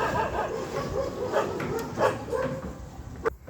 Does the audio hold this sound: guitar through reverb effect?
no